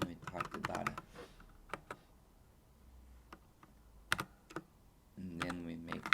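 Code is typed on a computer keyboard in short scattered bursts of sharp clicks, with a voice talking over parts of it and quiet pauses between.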